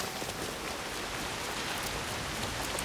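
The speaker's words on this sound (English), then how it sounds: "why is it still raining here?" Steady rain falling in the video game Assassin's Creed Shadows, an even, continuous hiss of drops on surfaces, soft and unbroken, with no voices over it.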